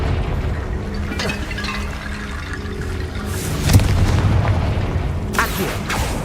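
A Confringo blasting spell going off in the wizarding game Hogwarts Legacy: a short, deep boom near the middle, set amid low rumbling game sounds.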